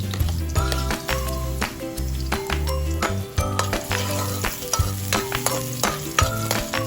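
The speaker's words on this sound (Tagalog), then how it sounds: "Sa mainit na kawali, maglagay lang tayo ng konting mantika. Igisa ang sibuyas," Onion and garlic sauté in a little hot oil in a hot pan, a steady close sizzle with stirring clatter, heard under loud tonal background music throughout.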